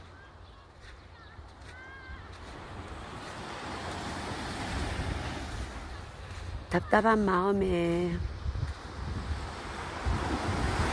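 Waves roll in at a dawn seaside, a continuous wash with wind rumble against the microphone that swells toward the end, while a voice speaks over the surf.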